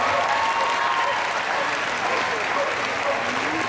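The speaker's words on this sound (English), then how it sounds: "Give them both a round of applause, folks." Dense, steady applause from an audience at a dog show in Toronto, Ontario, honoring two performers, a continuous wash of many hands clapping at full volume for several seconds without letup.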